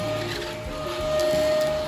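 A household vacuum cleaner runs close by with a steady, loud rushing drone and a high whine held throughout. The noise swells slightly toward the end.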